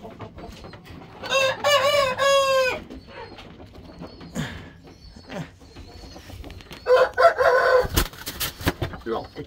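Farmyard chickens cluck and a rooster crows loudly twice, close by, with scattered clucks and quieter rustling between the calls and faint voices in the background.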